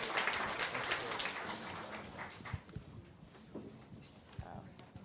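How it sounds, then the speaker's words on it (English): A round of applause as a panel is escorted off stage at an event on congregate care accountability, loud at first and then thinning into scattered claps with some voices. "Let's give a big round of applause, and let's escort our panel off."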